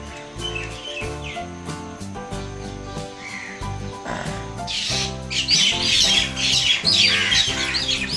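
Harsh squawking and chattering myna calls rise over a sustained musical drone, growing busier and louder toward the end.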